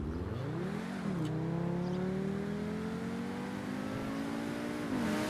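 A Tempesta car in the video game GTA Online starts up with a rising rev, settles into a steady droning engine note, then blips the throttle again at the end, loud and close.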